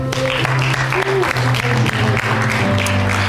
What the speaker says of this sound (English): Give our musicians a hand.